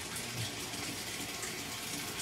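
A washing machine fills with water during its main wash cycle, giving a steady rushing, gushing flow that stays even and moderately quiet throughout with no speech.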